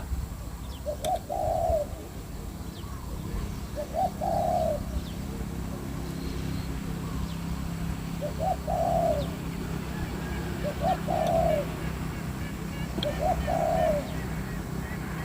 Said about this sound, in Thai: เป็นเสียงนกปลาครับพี่น้อง